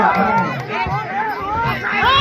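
A dense crowd at a rural boxing bout cheers and shouts continuously and close by, with many overlapping excited voices rising and falling throughout.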